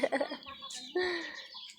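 Chickens on a small farm give a few close clucks and a drawn-out call, with a voice mixed in among them.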